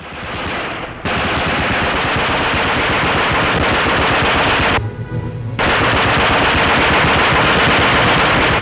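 A German machine gun fires in long, loud, continuous bursts of rapid shots during fighting in the WWII Battle of Orel. A brief pause falls midway, then the firing resumes.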